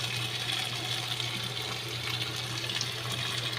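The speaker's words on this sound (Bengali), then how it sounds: "এবার আমি জল দেব।" Water pours steadily into a pan of koi fish curry with mankochu, a continuous rushing splash over a low hum that holds at an even level throughout.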